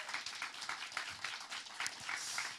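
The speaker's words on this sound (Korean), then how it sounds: "우리 귀한 말씀 전해주신 우리 조영길 장로님께 감사의 박수 올려드리겠습니다." A church congregation at a Thursday evening gathering gives a round of thanks applause to an elder after his message, the clapping soft and somewhat distant and tapering in and out over a few seconds.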